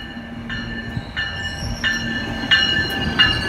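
A train runs on rails with a rumbling roll underneath and repeated squealing wheel screeches at regular intervals, fairly loud and close, without voices.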